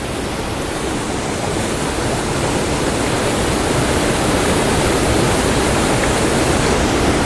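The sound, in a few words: waterfall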